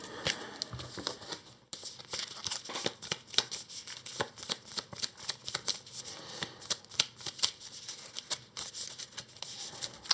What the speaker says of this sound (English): shuffle the moments